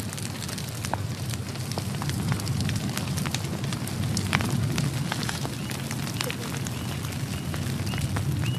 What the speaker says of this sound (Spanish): encienden fuegos para limpiar las zonas donde plantarán